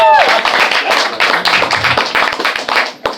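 A stand-up comedy audience claps briefly and unevenly, a burst of close, scattered hand claps with a voice over the start.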